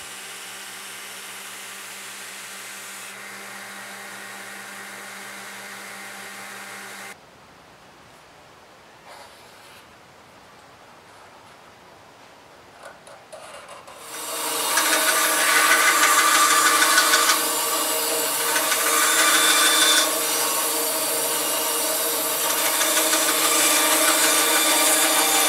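Belt grinder refining the bevels of a carbon steel paring knife on a high-grit belt, a steady loud abrasive hiss that stops midway, leaves a quieter gap, then returns stronger and continuous to the end.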